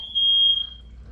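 A smoke alarm gives one shrill, piercing high beep under a smoke spray test, lasting under a second before stopping, close and loud over a quiet room hum.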